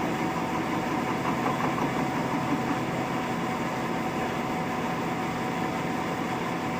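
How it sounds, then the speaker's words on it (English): A metal lathe turning a metal workpiece under power feed gives off a steady, unbroken mechanical hum with a fine whirring texture, holding an even level throughout. "he's spinning metal on a lathe"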